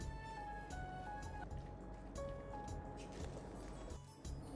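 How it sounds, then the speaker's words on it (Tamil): Water pouring and splashing into simmering mutton intestine curry cooked village style in Batticaloa, a continuous close liquid gurgle with small drips and clinks from the pot. "கொதிக்கிறதுக்கு கொஞ்சம் தண்ணீர் விட்டு அவிய விட போகிறேன்"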